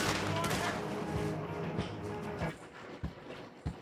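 Lancaster repeater rifle fire in Red Dead Redemption 2, several sharp cracks spaced through the moment amid other game noise and a talking voice, with shots punching out loudly near the end.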